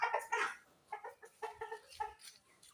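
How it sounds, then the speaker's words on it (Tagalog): Several chickens cluck in short, irregular bursts, fairly close, with a louder flurry at the start and scattered single clucks after. "Saka konting manok."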